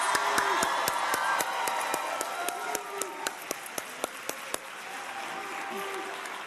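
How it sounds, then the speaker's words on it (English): A crowd in Philadelphia applauds Eagles center Jason Kelce with dense, steady clapping and scattered sharp claps that run the full length, while a voice or crowd murmur carries underneath. "can we give Jason Kelsey a round of applause?"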